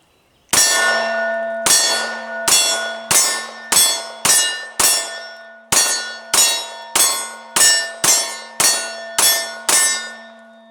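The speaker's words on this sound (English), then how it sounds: "You still hear the target ringing." Steel target rings out with a sharp metallic clang from Glock 19 Gen 5 pistol hits, about fifteen at a steady pace, each ring decaying before the next.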